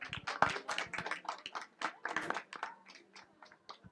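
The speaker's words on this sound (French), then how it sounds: "j'aimerais qu'on l'applaudisse encore" Audience applause at a gastronomy day event, a fairly quiet, sparse burst of individual claps that thins out toward the end, with no voices over it.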